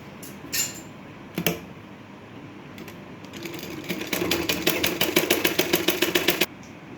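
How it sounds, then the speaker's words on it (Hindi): Sewing machine stitching pleats into a blouse: a couple of isolated clicks, then a rapid, evenly ticking run of stitches for a few seconds that stops abruptly, close and clear with no speech. "मैं यहाँ पे थोड़ा बैक करके सिलाई लगा रही हूँ"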